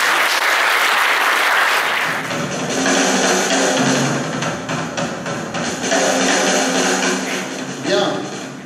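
An audience at an awards ceremony for creative trophies breaks into applause, clapping swelling and pulsing in bursts over several seconds, with a voice and some cheering mixed in near the start.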